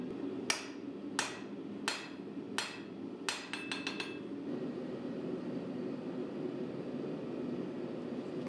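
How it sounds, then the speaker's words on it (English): A hammer strikes a steel katana blade while forging its spine side bevels: five spaced ringing blows, then a quick cluster of four lighter taps, followed by a steady low roar of forge or background noise. "The next part of the blade that I'm going to be forging is the spine side bevels."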